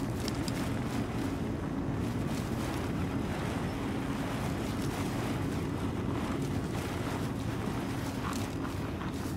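Golf cart driving in the survival game Sons of the Forest, a continuous rumbling engine and rushing wind-like roar that stays loud and steady throughout, with no speech.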